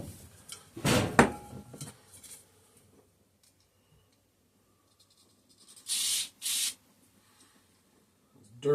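Carb cleaner sprayed onto the carburetor of a 3.5 hp Briggs and Stratton small engine, heard as two short close hissing bursts after some scraping handling noises.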